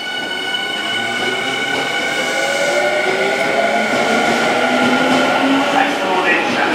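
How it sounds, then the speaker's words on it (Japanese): Out-of-service Tobu Nikko Line train pulling out of Minami-Kurihashi station, loud rising motor whine with layered tonal hums and rolling rumble as it accelerates, close to the platform. "回送電車が発車します。"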